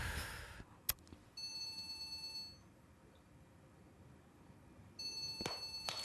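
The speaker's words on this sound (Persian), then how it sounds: "یوسف برام زنگ زده." A phone rings with an incoming call, sounding in two bursts of electronic ringing separated by a quiet gap, moderately loud and close, with a few brief knocks and rustles around it.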